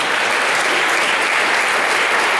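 Loud, dense applause from a church congregation fills the space, a steady wash of many hands clapping together with no pause.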